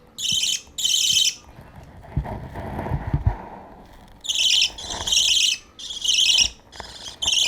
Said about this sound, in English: they start chirping loudly and calling for me to feed them